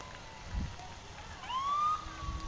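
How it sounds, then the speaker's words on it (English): A fire and rescue vehicle siren wails briefly in a festival parade, a rising and falling electronic tone heard at a distance over low street noise, fairly faint, with no talk. "Next we have the Henniker Fire and Rescue."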